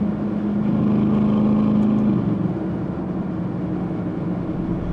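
An Aston Martin DBX 707 SUV is driven hard down a scenic road, its engine holding a loud sustained drone that eases off partway through amid steady road and wind noise.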